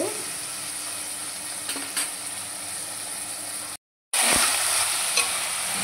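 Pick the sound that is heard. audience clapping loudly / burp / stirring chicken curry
stirring chicken curry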